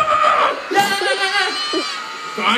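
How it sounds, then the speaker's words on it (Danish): Studio audience yelling loudly together in a vote, a dense crowd roar of overlapping shouts and whoops that swells, dips and rises again, close and loud throughout. "Alle dem, som synes, jeg vandt, I råber rigtig højt nu."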